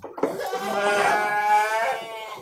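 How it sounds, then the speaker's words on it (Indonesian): A single sheep on a livestock farm gives one long, wavering bleat, close and clear against a quiet background. "ini domba-dombanya bagus semua."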